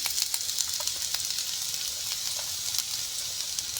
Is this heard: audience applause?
no